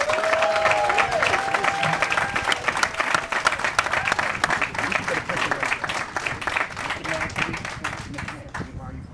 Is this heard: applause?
yes